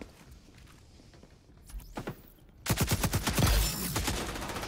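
Rapid gunfire bursts from the video game XDefiant, starting with a few scattered shots and then a loud, dense volley of repeated shots in the second half.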